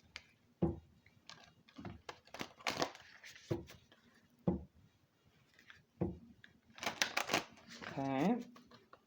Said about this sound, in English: Side shuffle.